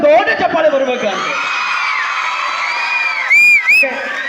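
A school audience breaks into loud cheering and whooping for the students, children's shouts and voices in a dense crowd roar that holds steady, with a couple of sharper whistle-like whoops near the end.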